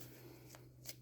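Luna Lapin oracle cards being shuffled by hand, a quiet papery riffle over a low steady hum, with a brief brighter flutter of cards near the end.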